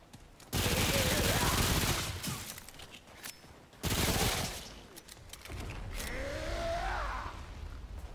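Gunfire in the video game Remnant from the Ashes: two loud sustained bursts of rapid shots separated by a pause, then a rising whine and softer rumbling.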